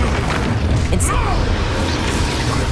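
Incendio fire spell cast in Hogwarts Legacy during a dragon rescue battle: a loud booming blast with a short burst of crackle over continuous rumbling game noise.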